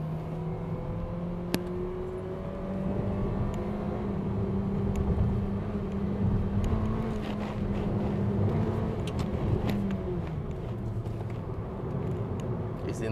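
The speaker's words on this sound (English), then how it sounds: "Of course, you also get a bit of engine braking" Mitsubishi Xpander 2021 engine pulling uphill on a mountain road in a low gear, a steady moderate drone with gradual pitch shifts as revs rise and fall, continuous throughout with faint road noise.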